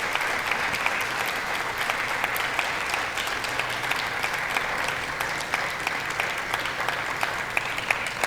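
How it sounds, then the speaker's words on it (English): Democrats in Congress clap steadily in a dense, sustained round of applause that fills the chamber at an even level from start to finish. "So that's the Democrats clapping."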